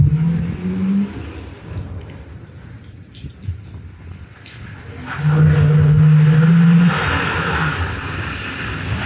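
Chevrolet Monte Carlo being driven after restoration from an abandoned, moldy state, a steady engine drone with road rumble that swells louder in the second half as the engine pulls harder.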